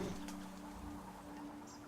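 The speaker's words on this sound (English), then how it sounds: "if you hear the sound, they sound like birds" Soft bird-like cooing and chirping tones from creatures in the puzzle video game Antichamber, faint and steady over a low ambient hum, with one brief brighter chirp.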